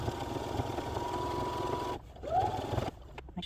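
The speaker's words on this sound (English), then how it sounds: "So you're just going to sew all the way around for all 4." A sewing machine stitches mitten fabric with a close, steady whirring hum for about two seconds, then briefly pauses and restarts in a shorter burst before stopping.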